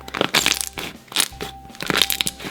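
Crunchy slime is squished and pressed by hand up close, giving three loud bursts of crackling, popping crunch separated by short pauses.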